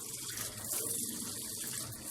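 Tap water from pipes fed by a rooftop solar water heater, mixed hot and cold, pouring steadily with a soft continuous hiss and splash, fairly quiet and close.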